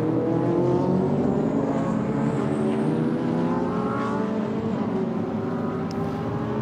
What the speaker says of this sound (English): safety cars waved by all of those GT cars that were in the queue